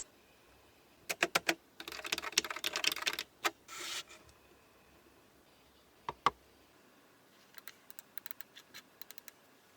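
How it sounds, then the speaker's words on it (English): Someone types on a second-hand computer keyboard: quick bursts of close, crisp key clicks, a dense flurry early on, then scattered single taps and short runs separated by quiet gaps. "Second-hand keyboard and mouse."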